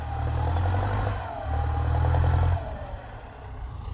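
Ford 5000 Turbo tractor plowing a wet rice field: a close, low diesel drone with clattering that rises and falls as the load changes, then settles to a lighter rumble.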